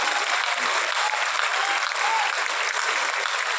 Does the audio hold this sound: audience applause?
yes